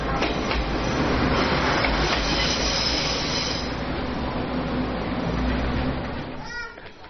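A train at Shifen train station heard from close by on the tracks: a loud, heavy rolling roar with squealing wheels and rail clatter that fades toward the end.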